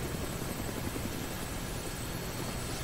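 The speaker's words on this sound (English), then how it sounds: "Looks like taking a helicopter was the way to go." A helicopter in Dead Rising drones steadily with a dense, even rotor roar, continuous and close, filling the whole stretch with no talk over it.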